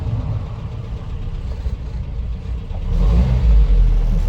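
A 1976 Land Rover Series III 109 pickup with a 2.25 engine pulls away on a hot day, its mid-pitched engine rumbling steadily and then swelling louder and deeper as it accelerates off, with no voices.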